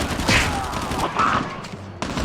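HG40 submachine gun fire in the mobile shooter Call of Duty Mobile, a busy stretch of game gunfire with bursts and clatter blending into other game effects at steady moderate loudness.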